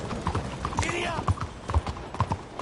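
Horse hooves clip-clop in an irregular gallop-like rhythm through the Red Dead Redemption 2 video game, with a rider's voice and other game sounds over the steady thuds.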